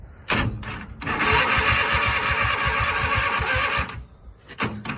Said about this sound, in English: I think it's just starting.